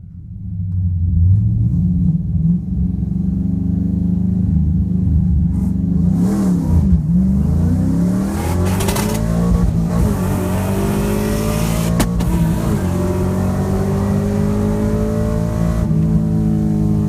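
A Ford Shelby GT500 on a race track revs hard through the gears with a loud, close, continuous engine roar, a brief dip and rise around a missed shift, and further sharp gear changes.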